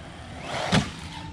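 A brief rising whir swells and fades as a small brushless 1/16-scale Racent RC truck with friction shocks passes close by, its motor whine sharp over a steady outdoor hiss, with no talk.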